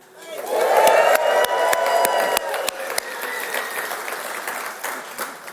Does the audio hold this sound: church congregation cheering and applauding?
yes